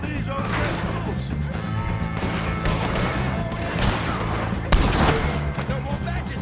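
Rapid, overlapping gunfire in Red Dead Redemption 2 fights against O'Driscoll gang members, with dense bursts of shots, a harder crack near the end and voices shouting faintly beneath the battle noise.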